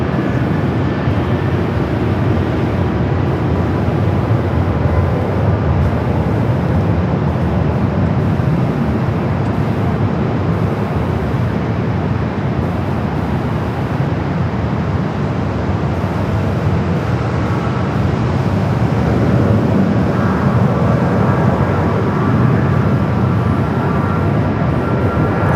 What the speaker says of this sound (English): We do have a United 737 lined up, ready to go 7 left.